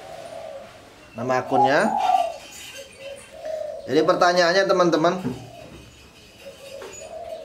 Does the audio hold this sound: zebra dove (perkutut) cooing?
yes